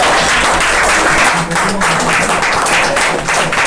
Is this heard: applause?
yes